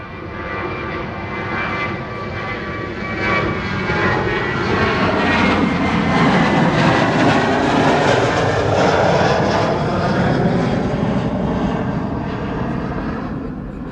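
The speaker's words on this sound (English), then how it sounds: "This is KLM flight 959 to Newcastle, 737-800." A KLM Boeing 737-800 jet airliner at Schiphol airport roars with a broad, steady engine rumble that swells and holds loud throughout, with no voices.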